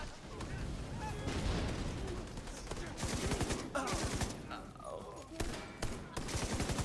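Turret fire in a shooter video game, a dense, loud, continuous stream of rapid shots with chaotic game effects and brief gaps, heard up close throughout.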